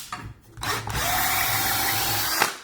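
A DeWalt cordless drill backs out a screw in one steady, loud burst lasting about two seconds. The motor whine starts abruptly, holds constant, then cuts off sharply.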